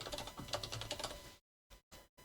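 Rapid clattering keystrokes on a computer keyboard run steadily for over a second, then stop in silence before a few short bursts of typing return.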